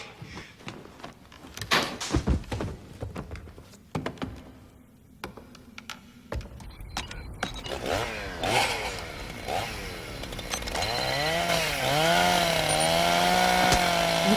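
A chainsaw effect in a haunted-house horror scene, starting with scattered clatters and bangs before the saw revs up, its whining pitch sweeping and climbing loudly and steadily toward the end.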